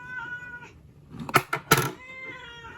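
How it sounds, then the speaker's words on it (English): A cat meows twice in quick succession, loud and close, the cries rising sharply above a quiet background. "my cat needs to be quiet"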